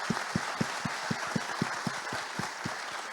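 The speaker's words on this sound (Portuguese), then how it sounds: "estou aqui na salva de palmas aí para a Lilian e para a Maria Alice." Audience applause at a talk on Rio de Janeiro's innovation ecosystem: a faint, sparse clapping with a steady rhythm of about four claps per second over a room hiss.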